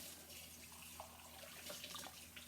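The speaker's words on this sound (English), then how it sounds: "Turn my water on pretty warm. Okay, I'm going to swirl the water around and rinse it off." Warm water runs steadily from a kitchen tap over soapy dishes being rinsed, a continuous close hiss with small splashes and no talking.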